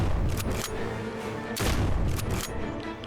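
Loud bursts of gunfire in the zombie survival game SurrounDead, a few heavy booming shots spaced out over a constant dense background rumble.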